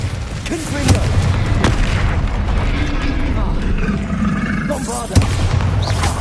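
A Confringo spell explosion in Hogwarts Legacy lands as a dull boom amid battle noise, followed by a second sharp blast, with a voice speaking over the game sound.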